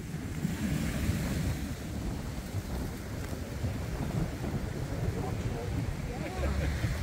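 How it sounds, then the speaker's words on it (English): Pacific Ocean surf rolling rocks along a Tahiti shoreline, a steady, dense roar of churning water and grinding stones that continues without a break. "You can hear the rocks rolling."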